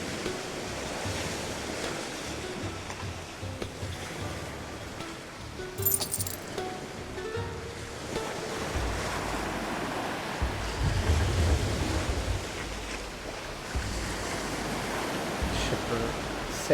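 Ocean waves and wind while sailing a ship in a Viking-era game, a steady broadband wash of surf and gusting air running throughout, with a brief clink near the middle.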